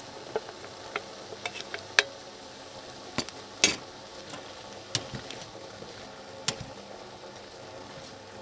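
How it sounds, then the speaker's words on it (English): Carrot, squash and chickpeas are stirred in a cooking pot on a winter camping trip, with soft irregular clicks and scrapes of a utensil over a quiet background. "next we're gonna add our veggies, so some carrot and squash and chickpeas as well"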